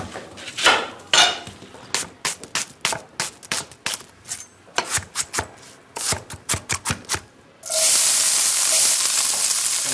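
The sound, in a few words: garlic and onion sofrito sizzling in a pan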